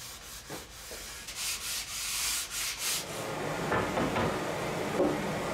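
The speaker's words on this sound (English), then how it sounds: "I also sanded the tops and the corners with 150 grit sandpaper." Wooden garden bench planks being hand-sanded with 150 grit sandpaper, steady rhythmic rubbing strokes close by, pulsing back and forth and then settling into a continuous scratchy sweep.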